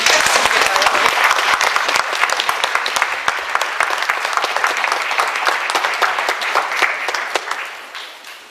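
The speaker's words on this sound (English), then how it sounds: "Remember the applause thing when they come up." Audience at a women's forum applauding as a speaker comes up, loud sustained clapping from many hands that fades out near the end.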